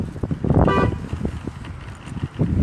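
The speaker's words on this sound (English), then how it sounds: "I don't know what you honking for." A single short car horn toot sounds on a street amid passing traffic noise and mumbling speech.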